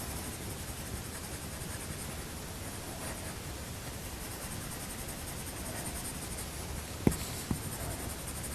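Coloured pencil drawing on paper, a faint continuous scratchy shading sound close up, with a couple of small taps near the end and no speech.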